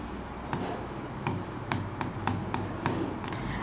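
Pen or chalk strokes tap and scratch on a surface while the same words are written out repeatedly in a class 10 biology lesson, a series of short, sharp clicks in an uneven rhythm, close by.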